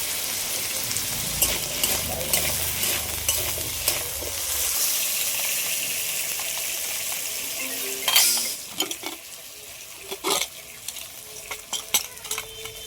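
Potatoes fry and get stirred in a pan for chicken ghugni. A bright sizzle runs throughout, and sharp utensil scrapes and clatters come through more clearly as the hiss softens midway.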